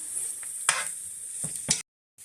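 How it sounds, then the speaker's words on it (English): Chopped homegrown carrots sizzle in a hot pan with a constant bright hiss, and a few stirring scrapes cut in before a brief drop to silence. "And I'm also going to add in some chopped homegrown carrots. Let those saute for a bit."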